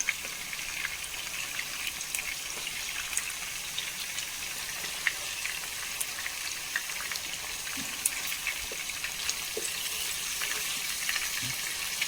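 Chicken pieces for biryani shallow-fry in hot oil, taken only to about three-quarters done, giving a faint, even sizzle with scattered small pops and crackles that runs steadily throughout, with no one talking.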